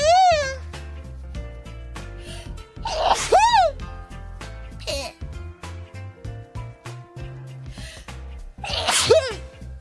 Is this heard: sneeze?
yes